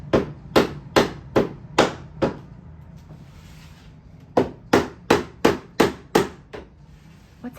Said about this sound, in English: all of a sudden I heard hammering